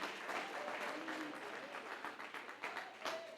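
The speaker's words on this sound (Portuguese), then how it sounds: "Em fortes palmas para o nosso Deus" Congregation applauding in a church service, a steady wash of many hands clapping at moderate volume with some uneven bursts, continuing without spoken words throughout.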